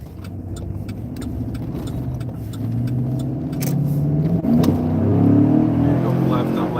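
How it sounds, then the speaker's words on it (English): A police car engine revs and rumbles steadily, building louder toward the end, with rhythmic ticking clicks over the top. "People like hearing the engine rev"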